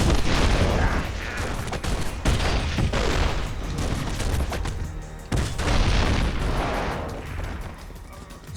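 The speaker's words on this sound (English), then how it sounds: "Switch to that grenade launcher." Grenade launcher explosions in the video game The Matrix: Path of Neo, a dense, loud barrage of booms and gunfire thudding repeatedly with brief dips between blasts.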